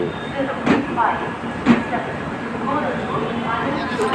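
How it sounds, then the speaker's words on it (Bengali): A train pulls away from a platform at Moradabad station, its rumble and rail noise running steadily under a busy station backdrop, with two louder knocks and people talking nearby. "এই যে আমার ট্রেন চলে যাচ্ছে"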